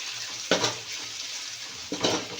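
Chopped onion and tomato frying in oil in a pan, a continuous close sizzle broken by two brief stirring scrapes of a spoon.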